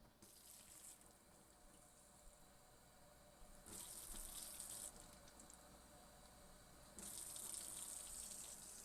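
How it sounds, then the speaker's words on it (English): Water pours into hookah bowls in bursts from a tap, three separate hissing gushes starting and stopping, close and fairly soft with no talking. "So I'm putting the water inside of the bowls."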